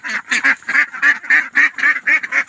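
Ducks quacking in a pen, a loud close series of rapid nasal quacks in quick bursts, several birds overlapping with no pauses.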